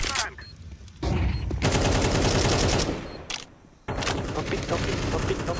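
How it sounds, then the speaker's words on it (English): Counter-Strike match audio with a flashbang thrown amid loud in-game gunfire bursts and explosions, dense and continuous with brief drops, during an esports semifinal broadcast. "Throwing a flashbang."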